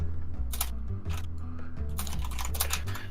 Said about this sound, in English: I finished typing that